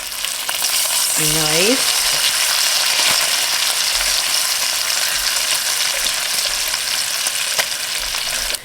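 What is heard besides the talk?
bacon frying in a pan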